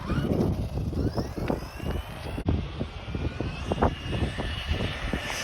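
A DeeRC 1217 RC car on 4S power with stock tires runs at full throttle outdoors, a loud continuous motor whine with fluctuating pitch over wind noise, passing near, with a brief dropout midway.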